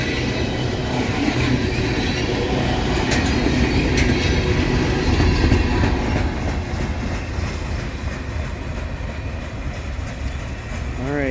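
Loaded CSX ethanol tank cars of a freight train rolling steadily past at close range, a continuous loud rumble with rhythmic clickety-clack of wheels over rail joints and faint wheel squeal near the end.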